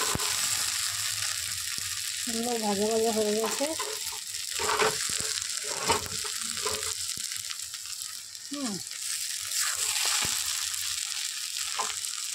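Fish head and rice frying and being stirred in oil for Bengali muri ghonto, giving a steady close sizzle with scraping stir strokes and brief clinks throughout.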